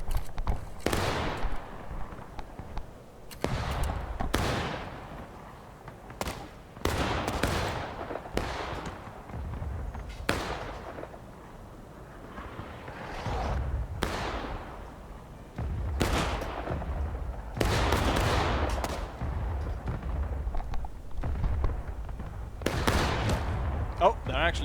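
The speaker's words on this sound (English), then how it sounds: "they're actually shooting at me, so maybe we should shoot back" Period musket gunfire in the Civil War shooter War of Rights, a series of sharp, loud shots scattered irregularly across the scene, some close and some farther off, with a voice talking at times between them.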